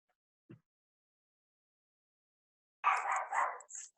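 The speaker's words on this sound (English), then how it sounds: "Oh, the dog." A dog gives a short burst of three or four barks at fairly close range after a long quiet stretch, preceded by a faint single knock; no talking is heard.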